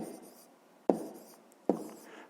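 A pen writes a maths calculation on paper, soft scratchy strokes broken by two sharp taps, close and quiet with no talking.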